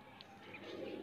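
A high-flyer pigeon gives a soft, low coo close by in a loft, brief and muffled, against a quiet background hum.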